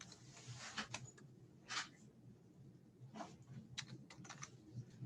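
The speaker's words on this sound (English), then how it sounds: "And then we're going to type salad." Quiet keystrokes on a computer keyboard come in short irregular bursts and single taps, entering menu headings for a set of chef notes, with no talking over them.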